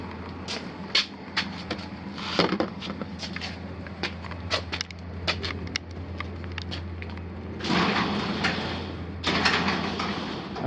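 A 1980s garage door opener in a mid-city garage closes the door with a steady low motor hum throughout. Scattered clicks, knocks and rattling surges ride on top of the hum, with two louder grinding stretches near the end.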